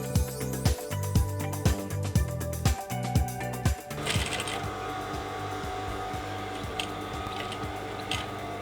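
Stitching the sides of a traditional Yoruba cap by machine, a rapid run of sharp mechanical ticks and clatters slows into a steady whirring hum, with occasional faint taps on top, quiet and close, with no talking.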